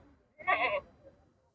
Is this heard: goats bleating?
yes